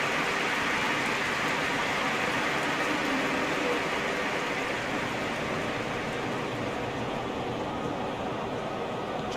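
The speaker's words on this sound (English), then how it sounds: "Just starting to get the first signs of rain here." Steady broadband rain hiss in eFootball PES 2021 during a Brazil vs Scotland match, a continuous even wash that holds level throughout with faint crowd or commentary presence beneath.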